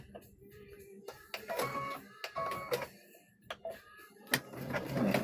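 A home sewing machine stitches fabric beside interfacing for a trick-or-treat bag, running in short uneven bursts of mechanical whirring and clicking with brief pauses between, close and fairly quiet.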